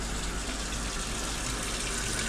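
Steady broadband rush of water running from a newly repaired sink faucet in a cabin kitchen, continuous and fairly close, with no voices.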